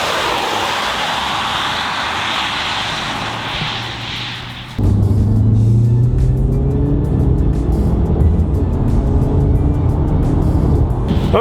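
A Mazda 3 Turbo passes on a rainy road: a steady wash of tire and road noise gives way to a louder, closer engine surge as the car goes by, with no voices.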